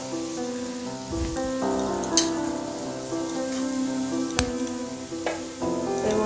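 Carrots fry in a pan while being stirred, with a steady, close sizzle broken by occasional scraping stir strokes over a faint musical background.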